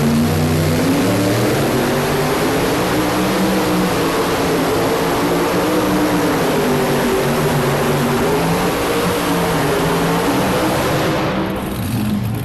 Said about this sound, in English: first truck on the line is Bill Leishner out of Weldon, Illinois